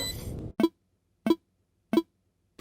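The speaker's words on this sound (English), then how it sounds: "that's the spike diffusal sound from Valorant" A Valorant spike defuse effect from the video game: a short burst of bright noise, then three crisp, evenly spaced electronic beeps about 0.6 seconds apart, with a faint fourth tick at the end.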